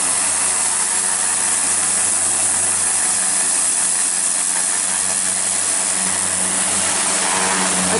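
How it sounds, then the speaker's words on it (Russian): A jet of boiling water and steam blasts a drained outdoor pool clean of summer algae, a loud, steady hiss with a low mechanical hum from the machine underneath, unbroken for several seconds. "Это кипяток такой, струя кипятка, пара."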